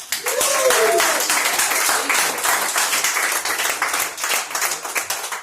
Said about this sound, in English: I got a bigger clap.